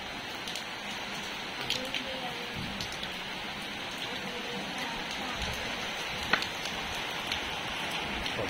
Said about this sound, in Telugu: ఇది రెండో వాన కదా